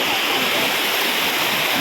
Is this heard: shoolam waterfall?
yes